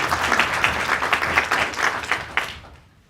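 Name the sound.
audience applause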